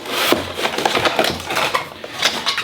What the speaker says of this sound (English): here next up we have the fry pan. So pull this out.